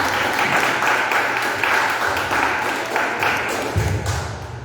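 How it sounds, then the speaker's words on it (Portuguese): Applause rises from a church congregation, a steady wash of clapping with a few heavier thumps, sustained at moderate loudness without a clear break. "salve de palmas para Jesus"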